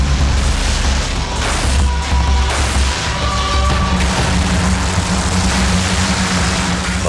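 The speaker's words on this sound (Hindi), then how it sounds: "भारतीय तोपों ने रात 8:30 बजे से ही गोले दागने शुरू कर दिए थे" Indian artillery guns firing shells at night in the Kargil War, with heavy low booms over a constant deep rumble and engine-like drone, loud and sustained with no talk.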